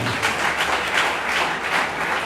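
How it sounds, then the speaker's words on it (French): Wedding guests at a civil marriage ceremony applaud the couple, a steady, loud burst of clapping from many hands filling the room throughout. "Applaudissez pour ce couple."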